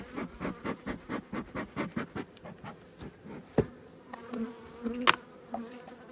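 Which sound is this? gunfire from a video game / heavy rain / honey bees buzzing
honey bees buzzing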